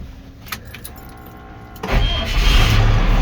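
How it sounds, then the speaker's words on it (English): A Cummins diesel engine in a 1998 Ford 2,000-gallon water truck starting: a few faint clicks and rustles, then the engine catches at about two seconds and settles into a loud, rumbling idle close by. "now I'm going to start the truck up."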